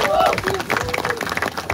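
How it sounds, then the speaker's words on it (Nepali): An audience claps at a televised Roadies grand finale, the applause sustained and fairly close, with a voice speaking over the clapping. "जोरदार ताली उहाँलाई"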